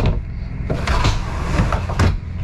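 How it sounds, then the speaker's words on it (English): A small pocket door inside a 2022 Montana Legacy 3132RL fifth-wheel RV slides along its track with rolling rumbles and a few knocks and clicks, close and moderately loud. "I like that they put the little pocket doors on here."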